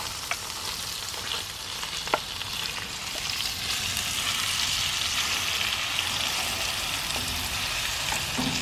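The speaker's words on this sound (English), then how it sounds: "Now we add the tomatoes, cook our sauce." Tomatoes cooking down into sauce in a tagine for Moroccan shakshuka with meatballs, a steady close sizzle and bubbling that swells slightly, broken by a few spoon clicks.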